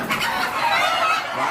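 Chickens clucking continuously on a farm compound crowded with free-ranging hens, several birds overlapping at close range with a busy, unbroken chatter and a hint of crowing.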